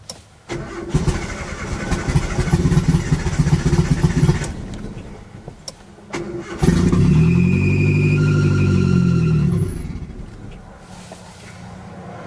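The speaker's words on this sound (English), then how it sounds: "it revs up kind of fine, like normal, and then it just starts to and drops" Boosted Nissan Hardbody pickup engine, near and loud, starts and revs up, then sags and drops back, followed by a second harder rev that holds for a few seconds before falling off to a rough idle.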